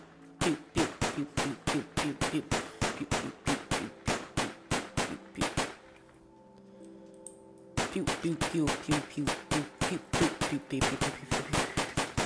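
Rapid, evenly spaced machine gun shots from a video game weapon, two long bursts split by a short quiet gap, crisp and moderately loud with no talk over them.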